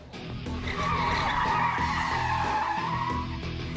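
A car skids during a security driving exercise simulating a roadside ambush, its tires squealing loudly and continuously for several seconds, close by, over engine noise.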